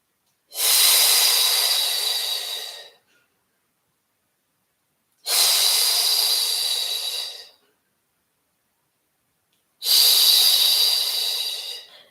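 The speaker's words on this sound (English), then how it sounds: "Breathing pattern, inhale 2, 3, 4, 5, exhale 2, 3, 4, 5." Three long, loud breaths during a pilates breathing pattern, each a steady airy hiss of a few seconds separated by clean silence, close to the microphone with no talk.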